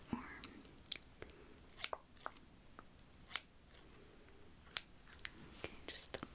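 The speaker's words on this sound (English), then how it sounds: "Let me just trim a little bit more." Scissors snip through hair during a haircut with soft, close, intimate snips scattered irregularly, some crisp and sharp, over quiet breathy whispering in a calm layered setting.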